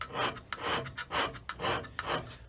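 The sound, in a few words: hand scraping marks on a metal straight edge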